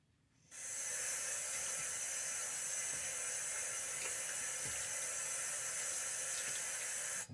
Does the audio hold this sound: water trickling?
yes